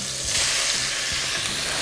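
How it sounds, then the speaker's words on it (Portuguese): Sausage fries in a little oil in a pan, giving a steady, dense, close sizzle and crackle that continues without a break and with no one talking. "O negócio é fritar bem frito."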